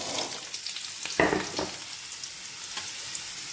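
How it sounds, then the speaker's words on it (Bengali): Soya chunks fry in a small amount of hot oil, the same oil used for paneer, giving a close, steady sizzle with a few brighter crackling bursts and stirring scrapes, no voices. "চলো সয়াবিনগুলোও ভেজে নিই।"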